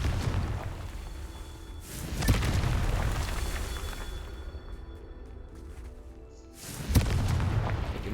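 Confringo explosion spells going off in the wizarding game Hogwarts Legacy, two loud booming blasts several seconds apart, each trailing into a rumbling, crackling decay.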